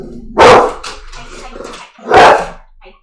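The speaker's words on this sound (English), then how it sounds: "I knew he was gonna. That's why I was like. Bark scare." A pet dog barks twice indoors, loud and close, with a pause between the sharp barks and a faint whimper at the end.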